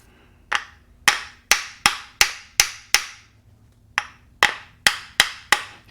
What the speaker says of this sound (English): So let's bust this case apart.